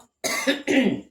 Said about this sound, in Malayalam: ഇത് വറക്കുമ്പോൾ നമുക്ക് ചുമ കുത്തുന്നു